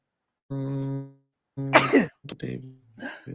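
A voiced intake followed by a sharp, explosive sneeze up close, then brief speech right after.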